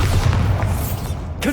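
A deep, booming blast from the Bombarda spell in Hogwarts Legacy rumbles loud and close, a single heavy low-end explosion with a brief crackle at the end.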